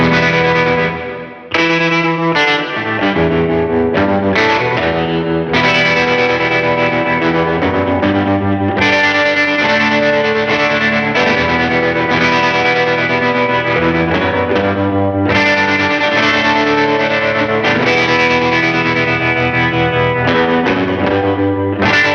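A Pinter SB2 12-string electric guitar played through a Spaceman Voyager 2 tremolo with drive and reverb, giving loud, continuous chiming strummed chords with dirty saturation, pulsing tremolo and a reverb wash, pausing briefly before resuming.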